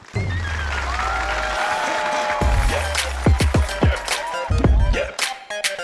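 A studio audience on a Chinese television talent show claps for the first singer as music plays, the applause steady at first and then breaking into sharper, scattered claps with brief pauses toward the end.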